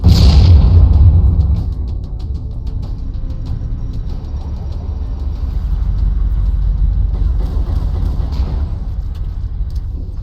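A grenade detonates in Halo: Combat Evolved with a loud, deep boom that rumbles for about a second and a half, then fades into a lower, steady in-game rumble with scattered clicks.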